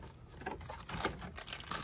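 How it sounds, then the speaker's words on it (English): A plastic bag is crinkled and rustled up close while a Mima Kirigoe Pop Up Parade figure is unboxed, giving a continuous stretch of dense crackling with no talk. "Got this plastic bag out of the way."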